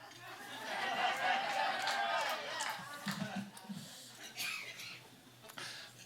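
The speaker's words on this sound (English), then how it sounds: "Check this out. There's the crowd." A live audience fills a venue at The Carleton with a steady murmur of overlapping voices and scattered chuckles, moderately loud, then thinning toward the end.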